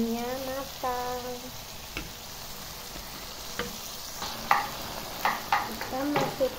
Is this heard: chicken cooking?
yes